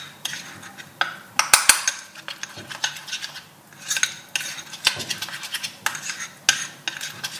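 Softened room-temperature butter and flour being mixed by hand in a bowl, with repeated scraping and clinking strokes of a utensil against the bowl in an uneven rhythm, close and fairly clear.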